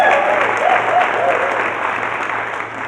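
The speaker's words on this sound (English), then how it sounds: "give them a round of applause" A conference audience at a Colorado opioid abatement keynote breaks into sustained applause, a dense steady wash of clapping that holds strong for several seconds and eases slightly toward the end.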